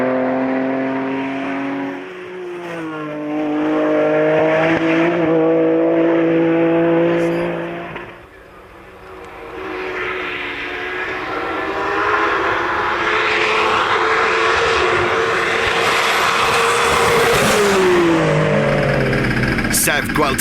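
A BMW 335 race car on a hillclimb course roars with a loud engine, revving up and shifting through gears as it passes, with someone talking over it.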